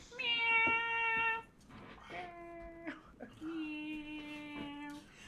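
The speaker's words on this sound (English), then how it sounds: "Good cat. What a good kitty!" A pet cat meows at length indoors. There are three drawn-out, tonal meows, the first loud and rising and the later ones lower and wavering, with faint background sounds between them.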